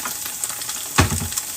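Tofu steaks fry in a hot skillet, giving a steady close sizzle with a brief louder crackle partway through, no voices.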